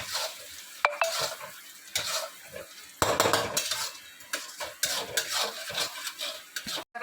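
Kashmiri chili powder and green chili frying in dal for dal fry, with a spoon stirring and scraping the pan over a steady sizzle, close and fairly loud, no talking.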